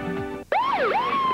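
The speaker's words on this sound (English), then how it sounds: "didn't you hear my siren?" A police car siren whoops loudly and close, sweeping down and back up in a single wail after a short burst of other sound.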